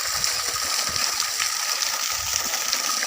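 Borewell water gushes into an overflowing tank, a steady broadband rush of flowing and splashing water that stays loud and continuous throughout, with no talk.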